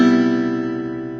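A single strummed guitar chord rings out and slowly decays, clear and close with no other sound.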